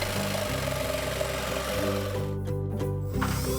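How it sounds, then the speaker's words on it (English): A power saw buzzes steadily while cutting a circle in plywood, a continuous droning whine with a brief shift in tone near the end. "cut a circle in the plywood using the bucket as your guide"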